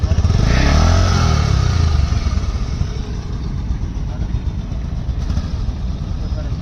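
A motorcycle engine runs close by on a riverside road beside the Tetulia River, the bike struggling with a clutch that will not disengage. The loud, rumbling idle swells briefly at the start, then settles into a steady, throaty chug.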